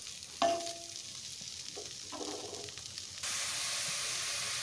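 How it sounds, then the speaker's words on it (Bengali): Fried cauliflower is lifted out of hot oil onto a plate: a quiet sizzle with a few sharp clinks and scrapes, then the frying hiss grows louder and steadier near the end. "এই অবস্থায় আমি ফুলকপিটাকে এখন একটা প্লেটের মধ্যে নামিয়ে নিচ্ছি"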